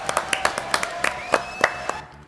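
Sparse audience clapping for a guest musician on a French talk show, a string of distinct, fairly close claps with a few hands joining, tailing off into quiet at the end.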